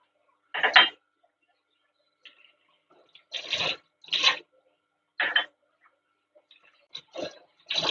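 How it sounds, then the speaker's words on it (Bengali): Tea cups being washed with water at home make scattered short clinks, splashes and taps in separate bursts, close by, with quiet gaps between and no talking. "এবারে আমি কাপগুলো ধুয়ে নেবো"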